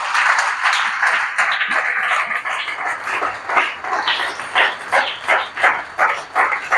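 A church congregation cheers and claps in acclamation. The claps build into loud, rhythmic bursts over a dense wash of voices, close and lively.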